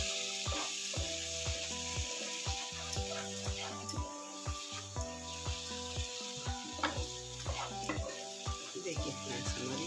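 Onion-tomato gravy for paneer bhurji sizzles and fries in a pan with steady scraping stirs, over a bed of soft background music.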